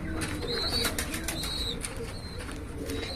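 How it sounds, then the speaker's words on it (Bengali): Young pigeon chicks in a pigeon loft give thin, repeated high squeaks and soft coos over a constant rushing background noise. "এই যে কবুতরের বাচ্চাগুলি দেখাও"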